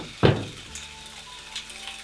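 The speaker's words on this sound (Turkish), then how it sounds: "bunları pişiriyoruz iyice çeksin kendini. Suyunu atsın." Chopped vegetables for a vegetable omelette fry in a pan. A sharp hiss flares as they hit the heat, then settles into a faint, steady sizzle with light clinks.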